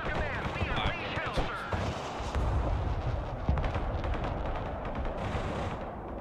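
Artillery barrages boom through a Broken Arrow battle, with heavy blasts and rumbling impacts layered over game sounds and a talking voice.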